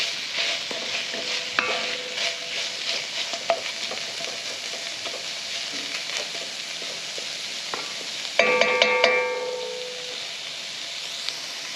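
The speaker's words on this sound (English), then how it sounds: "we'll deglaze the pan with some red wine." Red wine hits a hot beef pan to deglaze it and sets off a steady, close sizzle and hiss with stirring scrapes. A brighter burst of spitting and steam comes near the end.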